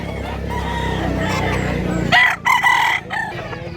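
A year-old Black Hennie gamefowl stag crows loudly and nearby in one short call that cuts through the steady low noise around it, with no one talking.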